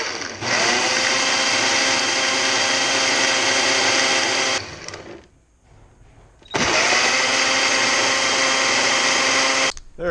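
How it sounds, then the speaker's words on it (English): A blender whirs loudly at full speed, mixing a dog food smoothie, in two long bursts separated by a short pause, with the motor stopping and restarting. "We're gonna fasten this up and give this a nice blend on the blender."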